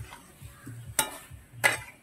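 A spoon stirs and scrapes curry with garam masala powder in a pan, the strokes rhythmic against a soft sizzle of frying, with two sharper clinks of metal on the pan.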